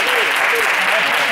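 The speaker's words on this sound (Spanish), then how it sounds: "Un aplauso." A classroom of students gives a short burst of applause, brief and loud, with voices talking over the clapping.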